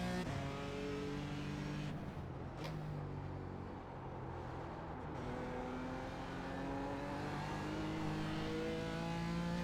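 A BMW M4 GT4 race car engine roars around Watkins Glen in a racing game, a steady, close drone whose revs climb and drop through shifts and corners, with no voices.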